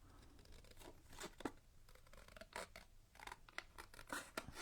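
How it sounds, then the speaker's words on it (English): Small scissors snip through a paper playing card in quick, uneven bursts of sharp crisp cuts, close up and fairly quiet, with faint rustling of the card between snips and no voices. "the small scissors are good for the tiny turns, but they're not good for the straight lines"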